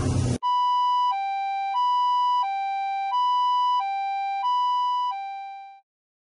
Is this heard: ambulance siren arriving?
yes